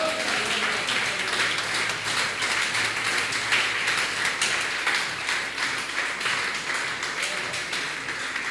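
A congregation at an evangelistic church service claps for the Lord, a continuous dense patter of many hands sustained evenly at moderate loudness throughout with no talking over it.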